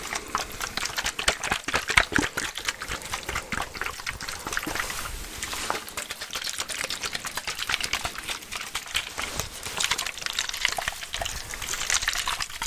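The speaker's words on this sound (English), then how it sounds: "Gotta love the liquid sounds, but also the spritzing sounds." Liquid sloshes, trickles and pours in close-miked ASMR handling, a continuous busy wash of wet splashing and dribbling with small crackling bursts, loud and close throughout.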